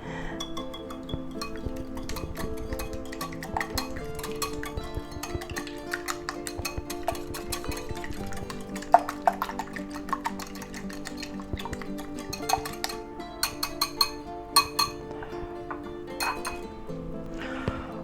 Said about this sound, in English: there's our egg mixture all beat up nicely